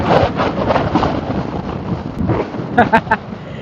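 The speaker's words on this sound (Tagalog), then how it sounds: "Nilalabanan yung malakas na hangin." Loud, buffeting wind roars against the microphone while riding a motorbike, with a muffled voice briefly audible underneath the rush.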